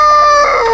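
An Indio Gigante rooster crows very close and loud, one short, strained, rising call cut off after under a second.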